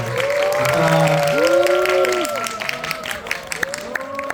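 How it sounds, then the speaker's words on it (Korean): A film audience at a stage greeting for Holy Night: Demon Hunters offers warm applause, clapping and calls mixed with raised voices, strongest at first and then thinning to scattered claps. "뜨거운 박수로 맞이해 주시면 감사하겠습니다."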